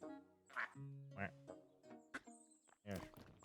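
Several scattered duck quacks in the Tiny Glade video game, some fainter and some clearer, mixed with soft game tones and light clicks.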